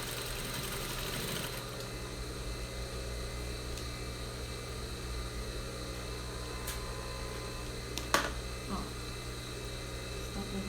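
A sewing machine stitches down the elastic on a fabric face mask, running as a steady, close mechanical hum throughout, with a brief louder knock partway through and a soft low drone underneath.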